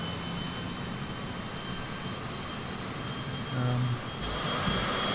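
Aircraft engine in Microsoft Flight Simulator 2020, a steady droning hum with a faint high whine, continuous and even throughout, with a brief low thump near the end.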